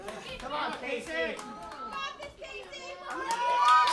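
A wrestling crowd roars and cheers on its feet after a bridging German suplex, a dense wash of excited voices and shouts building louder toward the end.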